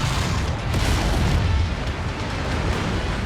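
Burst-fire weapon shots from a mech in MechWarrior 5: Mercenaries, during a night battle against pirates: a dense, continuous rumble of booming blasts that runs throughout without a break, loud and close, with no talking.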